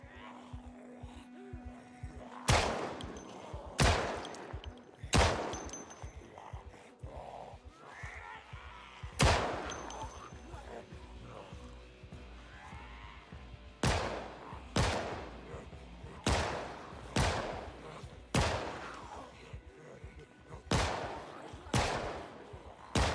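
Pistol shots in the zombie survival game Project Zomboid, fired singly at irregular intervals, about a dozen sharp loud cracks over a quiet background.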